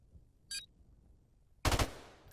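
Gunfire in the shooter game Modern Warfare Remastered during a one-on-one match: a brief faint shot, then a louder close burst of rapid fire.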